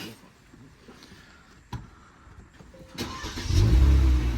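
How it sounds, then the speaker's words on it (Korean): A car engine cranks and catches after a quiet stretch with faint background noise, swelling into a loud, close, low rumble over the last second. "이거 시동 걸어봐봐, 한번."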